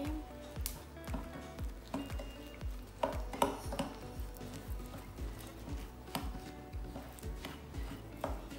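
Flour stirred together with melted butter in a bowl, giving repeated soft scraping and clinking strokes at a steady rhythm, close and fairly quiet, with no talking.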